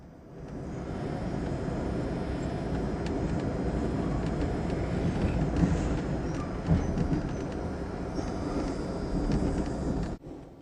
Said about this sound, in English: Sunset Limited crosses on the highest railroad bridge in North America.